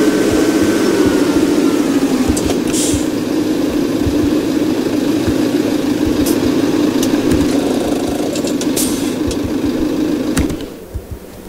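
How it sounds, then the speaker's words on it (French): A tractor engine idles in the video game Farming Simulator 17, a loud, steady rumbling drone that runs without a break for about ten seconds and then cuts off abruptly near the end. "Il me semble que j'ai un tracteur que j'ai pas éteint."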